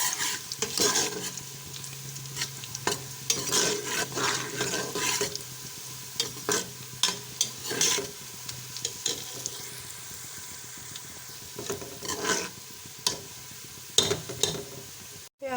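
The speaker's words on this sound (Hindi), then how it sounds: "इसको भी हम प्याज में अच्छी तरह फ्राई कर लेंगे।" Whole cloves, green cardamom and black peppercorns fry with onions in a pan for goat head curry, a steady sizzle broken by repeated scraping stirs and occasional clinks of the spoon against metal.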